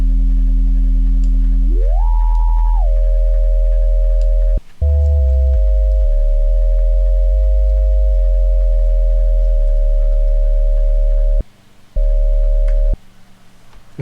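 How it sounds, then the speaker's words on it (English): Granular sample run through a metalizer, stutter and ring modulator in Glitchmachines Polygon: steady synthetic sine-like tones that glide upward, then hold a sustained metallic pitch over a heavy low drone, broken by abrupt cuts and gaps. "So if I route it to the metalizer first, I can turn it on this, which allows me to go into the stutter, then I can go into the ring mod."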